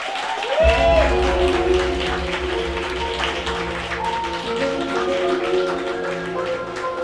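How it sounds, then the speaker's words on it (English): A pub crowd in Calgary claps for a performer, the applause running underneath loud walk-on music that kicks in almost immediately and stays prominent throughout. "can I get a warm round of applause, please?"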